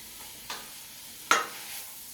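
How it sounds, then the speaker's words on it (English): A pot stirred with a ladle, two brief scraping strokes against the metal over a quiet background, the second louder and sharper. "the only spoon I have right now is a ladle, so I'm going to give this a stir"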